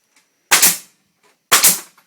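Two sharp, loud nail gun shots fired at a raccoon, spaced about a second apart. Each is a snapping crack with a brief double burst, and the gaps between them are quiet.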